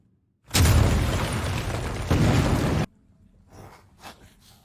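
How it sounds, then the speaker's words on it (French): A loud explosion in a TV drama scene erupts abruptly, booming for a couple of seconds with a second burst midway, then cuts off to near quiet with faint breathy sounds. "Oh là, des explosions."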